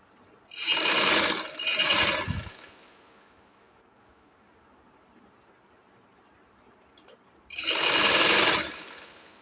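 Sewing machine double-stitching the closing seam of an angrakha-style frock, running in two quick loud bursts, pausing through a quiet stretch, then starting again for a final burst.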